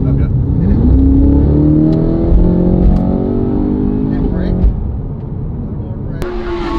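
A Lexus accelerates hard on the Laguna Seca race track, its engine note climbing steadily through the revs, loud and close from inside the car, with voices talking over it.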